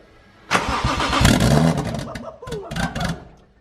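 A new turbocharger fitted with a new manifold on a Toyota JZX100 spins up with a broad rushing whoosh that swells and holds, then eases off, while people talk nearby.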